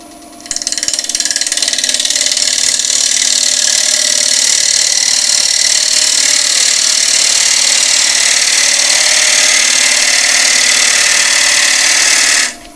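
A wood lathe spinning a kintsugi bowl at raised speed, a loud, steady high whine and whir that starts abruptly, holds evenly for about twelve seconds, then cuts off.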